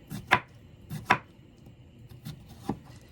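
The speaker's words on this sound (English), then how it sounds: "Sorry for the loud chopping." A knife chops cucumbers on a cutting board in a home kitchen, giving a few sharp, close thuds at uneven intervals with quiet pauses between them.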